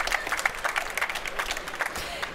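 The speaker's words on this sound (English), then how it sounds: "Please give a round of applause for Michael Kobel." A conference audience at a trade-fair forum gives a speaker a round of applause: close, steady clapping, with a voice talking over it.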